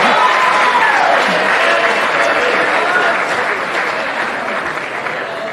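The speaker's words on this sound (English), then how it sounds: "a round of applause for everybody that made tonight possible" Big, sustained crowd applause at a college athletics awards night, loud and dense with faint voices mixed in, easing slightly toward the end.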